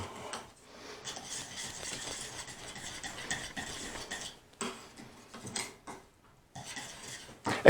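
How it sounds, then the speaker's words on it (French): A sugar-free keto tomato sauce is stirred in bursts of soft scraping and clinking against the container, pausing briefly between strokes before starting again. "Il ne nous reste plus rien à faire qu'à mélanger pour bien incorporer tous ces ingrédients"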